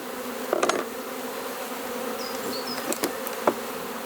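Honeybees buzzing around a hive frame during spring, a soft steady hum with a few louder close passes of individual bees, no voices.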